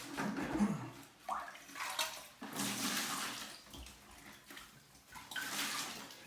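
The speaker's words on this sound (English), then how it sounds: "Then we get the water out of the bowl." Water is bailed out of a toilet bowl during a toilet installation, with intermittent splashing, sloshing and scooping sounds in bursts, close and fairly quiet, no talking.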